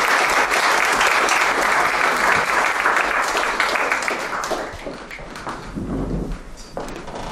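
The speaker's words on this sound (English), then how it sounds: "a quick round of applause, because we're really lucky to have such a diverse and skilled panel here with us this evening" Loud, dense applause from an evening audience at a tax talk panel event in Auckland, sustained and steady before easing slightly toward the end, with no voices over it.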